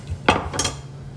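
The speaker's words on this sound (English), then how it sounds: "I'm going to cut the stem off" A knife cutting the stems off beets on a board, with two quick close crisp chops in succession.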